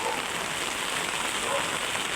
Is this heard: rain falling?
yes